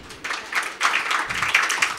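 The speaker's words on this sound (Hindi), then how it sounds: "तालियां बजाएं" An audience at a Christian gathering claps steadily for two seconds, a dense patter of hands that swells and dips slightly, with no one speaking over it.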